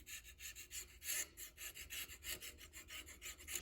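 A tool scrapes back and forth inside a stripped spark plug thread hole, giving quiet, close rasping strokes in an even rhythm of about four per second.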